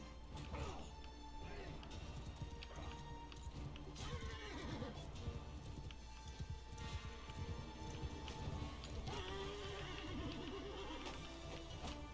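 Horses in the medieval battle game Bannerlord, neighing and hooves clopping amid a dense clash of combat noise, steady and busy throughout.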